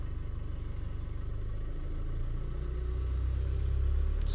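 A Chevy Duramax diesel truck engine runs during a diesel exhaust fluid quality test, a steady low rumble that slowly builds in loudness as it is revved toward higher RPM.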